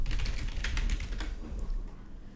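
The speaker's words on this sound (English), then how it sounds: "Look at the typing!" Rapid typing on a computer keyboard, a dense run of close, crisp key clicks that thins out toward the end, with no speech over it.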